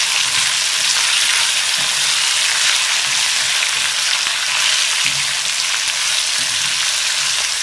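Okra sautéing with asafoetida in a hot pan, a steady, loud, continuous sizzle and crackle of frying that fills the whole stretch without pause and without any voices.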